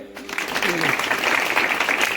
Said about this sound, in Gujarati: બધા તાળીઓ પાડીએ